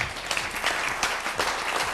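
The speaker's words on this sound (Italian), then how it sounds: "E facciamo un applauso a Michele Turi" A studio audience breaks into warm applause for a birthday during an evening show. The dense, even clapping is close and steady for a couple of seconds, with no voices over it.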